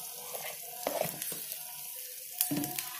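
Beaten egg sizzles softly in hot oil in a pan, spread like an omelette while making egg noodle curry, a steady faint crackle with a few soft stirring scrapes and no talking.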